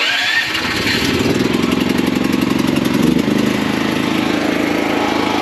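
Small gasoline engine on a mobile welder, run out of gas beforehand, starting up and settling into a steady, loud, close running drone that carries on throughout.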